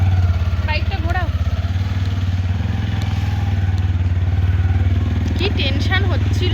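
A motorcycle engine runs with a steady, deep, throbbing drone, loud and close throughout, while people talk over it.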